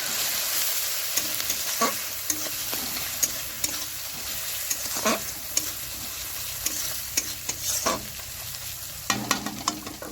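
Ground turmeric, chili and coriander powder sizzle steadily in hot oil in a pan for an egg kasa curry, with a spoon scraping and clicking through it in irregular strokes, close and fairly loud.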